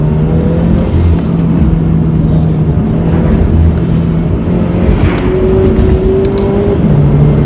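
Toyota 86 with an automatic transmission accelerating and shifting gears, a loud steady engine drone heard from inside the cabin with gear changes marked by small pitch shifts, no talking.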